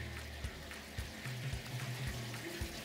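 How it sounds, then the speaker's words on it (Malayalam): Coconut oil, four teaspoons, pours into a cooking pan in a restaurant kitchen, giving a soft, close liquid trickle over low background hum, with a few brief low thumps from handling. "4 teaspoon കോക്കനട്ട് ഓയിൽ ആദ്യം ഒഴിക്കുന്നു."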